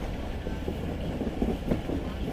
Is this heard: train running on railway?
yes